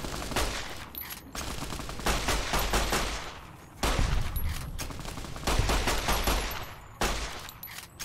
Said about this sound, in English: Just let me shoot you in the head.